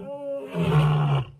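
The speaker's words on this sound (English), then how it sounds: "The roar of a lion is the sound of life Linda Calder is used to." A lion roars loud and close on safari, a low sustained growl swelling into a long rumbling roar before breaking off.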